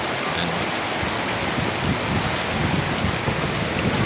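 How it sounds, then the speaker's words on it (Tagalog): Heavy rain pours steadily in a hilly area near mountains with mango trees, a dense, loud, continuous hiss of water falling on surfaces with no voices. "mag-ingat po malakas na ulan to"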